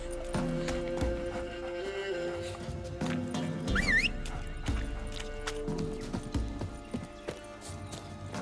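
Hooves of Roach, a horse in The Witcher 3: Wild Hunt, clip-clop at a steady walking pace beneath game music and bits of dialogue, with a brief whinny partway through.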